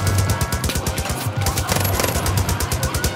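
Rapid bursts of automatic gunfire in Far Cry New Dawn, rattling steadily throughout, with no speech over it.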